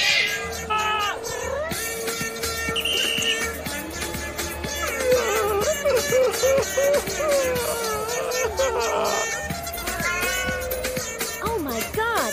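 Cats meow and caterwaul continuously over a busy backdrop, with many overlapping, wavering cries of varying pitch, loud and close, alongside what sounds like dubbed or layered sound effects.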